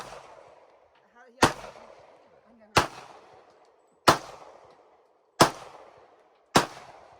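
Gunfire at an outdoor shooting range: five sharp, loud shots at steady intervals of just over a second, each cracking out and fading, with quiet murmuring voices between them.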